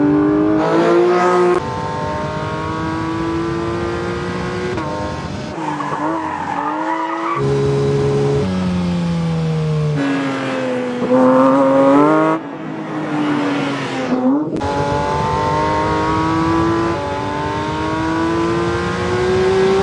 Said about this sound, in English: A high-revving, naturally aspirated engine